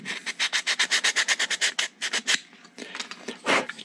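Pine wood pattern sanded by hand: fast, even back-and-forth scraping strokes, about fifteen in a steady rhythm, then slower and more irregular rubs, close and clear with no talking.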